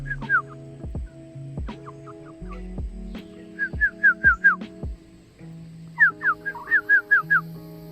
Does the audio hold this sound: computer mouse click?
no